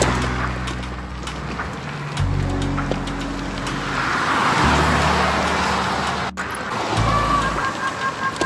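Highway traffic rolls past in a continuous roar, with vehicles swelling and fading as they pass close by and an engine droning underneath, and no one speaking.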